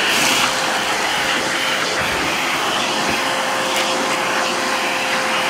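A Vevor 2.5-gallon wet/dry shop vac runs steadily, a loud continuous roaring whoosh with a faint whine as it sucks up a mess, with no talking over it.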